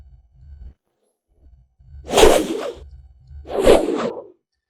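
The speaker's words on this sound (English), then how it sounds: "that almost actually sounds like a cloth flap or a cloth whoosh as well" Two quick swing-air whooshes, like a cloth flap or swish through the air, each a sharp broad rush that swells and fades, separated by a brief gap over a faint low rumble.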